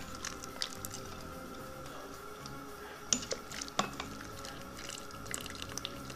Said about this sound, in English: Take your plastic slotted spoon and grab from all the way from the bottom, and this now you can mix it.